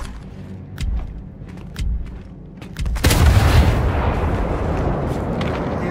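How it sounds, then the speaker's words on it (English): A bomb in the video game Gears 5 goes off with a heavy booming blast after scattered shots and thuds, followed by a loud, sustained rumbling roar that lingers to the end. "There goes the bomb."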